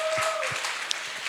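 Church congregation clapping during a Sunday service, a short burst of applause with a voice and a tonal note briefly over it.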